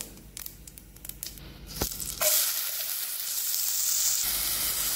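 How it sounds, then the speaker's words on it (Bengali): Chopped onion dropped into hot oil with cinnamon stick and bay leaf, bursting into a loud, steady sizzle after a few scrapes and clatters, the frying hiss holding strong and close to the end. "এবার এর উপর থেকে আমি যে চপ করে অনিয়ন রেখেছিলাম সেটা দিয়ে নেব।"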